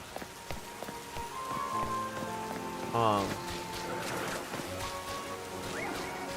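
Rain falls in the game Pokemon ZA as a soft, steady patter over game music, with brief sound effects chiming in over the top.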